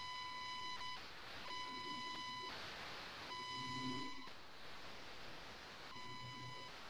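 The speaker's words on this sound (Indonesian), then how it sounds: "saya telepon Pak Amri ya Bu Ayu" A telephone rings out during a call, repeated electronic tone bursts about a second long separated by short pauses, steady and moderately loud over a hissy line.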